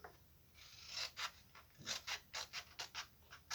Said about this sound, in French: Maintenant, on va prendre une paire de ciseaux.